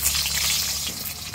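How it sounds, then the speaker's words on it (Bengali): Potatoes frying in hot mustard oil in a wok, a steady close sizzle with bubbling crackle that stays loud and unbroken throughout, no voices. "আলুগুলো ফার্স্টে একটু ভেজে নিই সুন্দর করে।"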